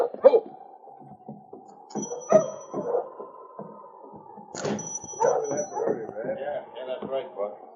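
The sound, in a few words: sled dog team barking and whimpering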